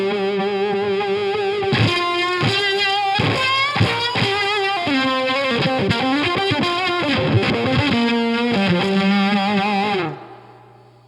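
Electric guitar chords played through fuzz pedals with spring reverb ring out loud and saturated, strummed in a steady rhythm for about ten seconds before the last chord decays into a reverb tail.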